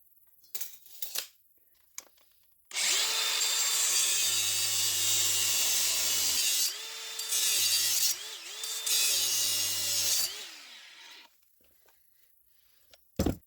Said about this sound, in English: I will cut right there where I have marked with the angle grinder